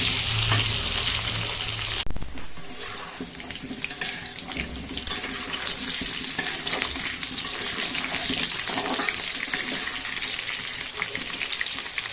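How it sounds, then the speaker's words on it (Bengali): Potatoes fry in hot oil in a wok, a loud dense crackle and hiss, with a sudden shift after a couple of seconds, then running water and stirring noises mixed in, near. "আমি এখানে তেলটা কড়াইতে গরম বসিয়ে দিয়েছি। ডিমের জন্য আলুগুলো ভেজে নেব।"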